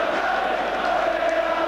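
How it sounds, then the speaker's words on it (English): St Johnstone football fans applauding their team off the field at half-time against Rangers, a steady wash of distant crowd noise and clapping with a faint murmur of cheering throughout. "There are the St Johnstone fans applauding their team off the field."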